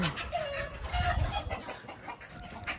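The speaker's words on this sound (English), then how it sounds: "Apparently we got a chicken fight going on." Agitated chickens fighting nearby, squawking and clucking amid scuffling and flapping noise, a rough, restless burst of fowl calls.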